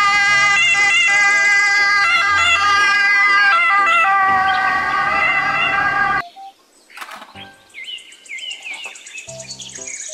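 A toy ambulance blares its electronic siren loudly and steadily for about six seconds, then cuts off, followed by scattered clicks, beeps and short toy sounds.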